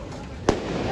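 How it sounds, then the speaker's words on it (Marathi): A single sharp firecracker burst cracks out once at midnight over a steady background murmur. "कसे फुटले फटाके."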